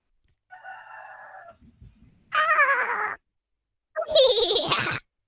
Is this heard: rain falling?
no